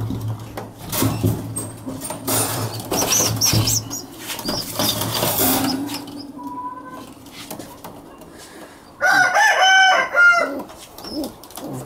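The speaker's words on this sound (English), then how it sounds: "show you these birds that we got here. They're all crests," Crest roller pigeons, including young squabs, coo and call close by, with bursts of fluttering wing flaps. A louder flurry of calls and wingbeats comes toward the end.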